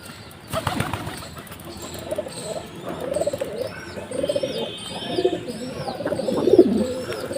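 Several pigeons coo softly and repeatedly in a loft, low murmuring calls overlapping with occasional wing flaps and faint chirps in the background.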